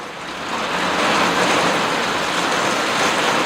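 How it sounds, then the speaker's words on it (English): Dense, steady roar of heavy rain pouring down during a thunderstorm, rising quickly and holding strong throughout with no voices. "Ooh, what a thunderstorm we're getting."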